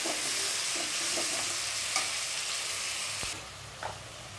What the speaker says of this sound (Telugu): ఇలా టొమాటోస్ని వేసుకొని ఒకసారి బాగా కలుపుకోవాలి